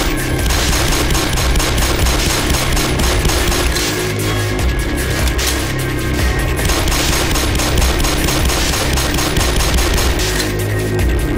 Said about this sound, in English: This pistol is so good.